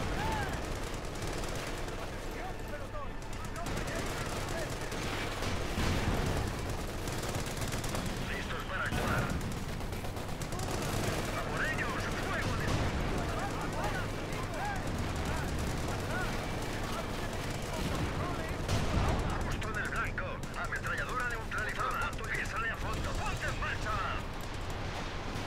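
Gunfire rattles through a battle around an enemy base in the World War II strategy game Company of Heroes 2, with bursts of machine-gun fire and booming blasts over a dense, continuous wash of combat noise.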